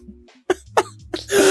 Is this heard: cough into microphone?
yes